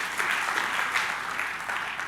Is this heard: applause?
yes